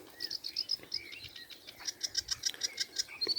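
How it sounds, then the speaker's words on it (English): A reed warbler sings from low down in reedbeds on a countryside walk in Cheshire, a faint, rapid, chattering run of repeated chirps and clicks that continues steadily without any talk. "That cap singing to my left then, and reed warbler."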